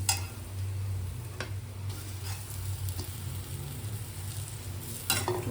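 Spoon stirring boiled potatoes into a spiced filling of red chili, turmeric and coriander-cumin powder for poha kachori, with soft scraping and a few sharp taps against the pan over a low steady hum, no speech.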